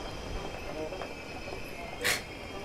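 An underground train in a Harry Potter film, heard as a low rumbling rail noise with a brief sharp screech near the end, fairly faint under the film's background.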